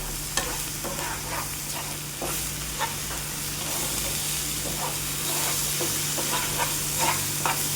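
Roasted tomato-onion puree sizzles and fries in hot oil in a pan while being stirred for a spicy drumstick curry, a steady close hiss with soft scraping stirs throughout.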